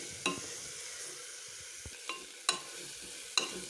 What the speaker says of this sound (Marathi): लाल तिखट, पावभाजी मसाला हे व्यवस्थित मिक्स करून घ्यायचं.